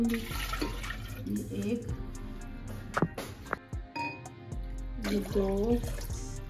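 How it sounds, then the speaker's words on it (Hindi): Water is poured from glasses into a grinder jar for cucumber lemonade in a few splashing bursts separated by short pauses, while a woman counts aloud between pours. "तो यहाँ पे जो है मेरे पास ये ग्राइंडर है, तो इसमें जो है मैं तकरीबन 3 3 गिलास पानी डालूंगी।"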